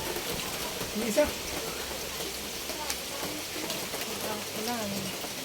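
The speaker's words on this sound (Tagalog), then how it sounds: "Ulan." Steady rain falls outdoors near a home kitchen where rice cakes are being cooked, a dense even patter throughout with brief voices and clatter mixed in.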